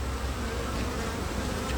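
Honeybees swarm over beehive frames during a box replacement, a dense, continuous close-range buzz filling the air at a steady loud level with no pauses or other sounds.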